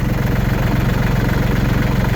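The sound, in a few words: tractor engine idling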